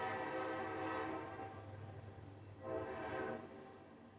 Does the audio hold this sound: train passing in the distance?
yes